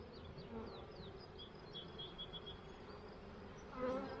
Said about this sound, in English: so those are all nurse bees.